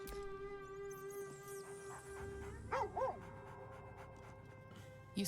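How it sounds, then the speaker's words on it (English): A dog in the video game Baldur's Gate 3 gives a couple of short yips and barks midway over a low ambient game score, fairly soft and brief. "Oh, the doggy's here."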